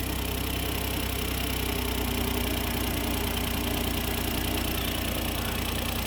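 A 2008 Smart Car engine idles steadily just after an oil change, a continuous close mid-pitched running drone with a fine, even rhythmic texture and no talk over it.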